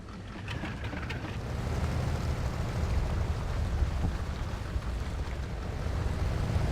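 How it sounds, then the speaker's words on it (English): A truck in the Mudrunner video game ploughing slowly through water, a steady low engine rumble mixed with continuous sloshing and splashing that holds at an even level throughout, with no talk. "Let's get ourselves through the water."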